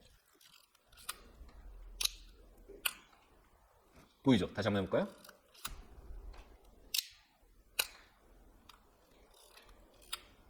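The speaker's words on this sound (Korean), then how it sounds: "이 거울이 올라간 다음에 셔터가 슉 움직이면서" A film camera's mirror and shutter fire during a long exposure, giving a string of sharp, close clicks spaced a second or so apart, with a person speaking briefly between them.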